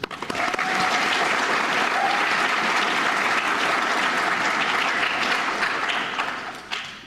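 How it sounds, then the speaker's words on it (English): An audience applauds steadily at a National Honor Society induction ceremony, dense sustained clapping that fills the room from start to finish and fades slightly at the very end. "Please join me once again in applauding our new Honor Society members."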